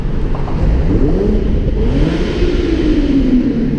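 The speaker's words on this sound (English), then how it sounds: "Love the way the exhaust sounds now, to be honest, especially on the downshifts." A modified car exhaust drones loud and close under an overpass, a deep steady rumble that rises as the engine revs, with no voices.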